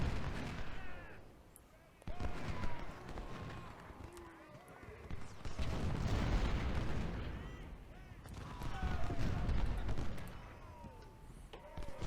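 Artillery booms and rolling musket fire in the Civil War battle game Ultimate General, heavy dull thuds under a dense crackle of battle noise, with someone talking over it.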